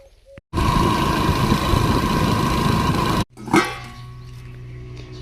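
A motorbike engine runs loud and steady for about three seconds as the rider arrives home from a fennel field, then cuts off abruptly, leaving quiet rustling and a brief thump.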